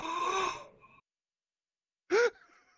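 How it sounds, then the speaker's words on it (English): A man snoring late at night: a drawn-out breathy snore fades away, then after a silent pause comes one short, sharp snorting breath, close by and alone. "He says, is that a snore?"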